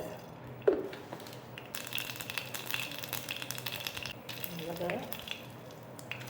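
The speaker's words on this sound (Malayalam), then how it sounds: "നമുക്കൊന്ന് കടുക് താളിച്ച് ചേർക്കണം" Mustard seeds tempering in hot oil for a North Indian dal, producing a fairly faint crackling sizzle that swells and fades, with a few sharper pops near the start and again later.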